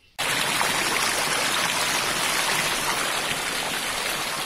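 Water rushing down a hill stream, a loud, steady broadband hiss of flowing and splashing water that starts abruptly and continues unbroken, close by with no voices.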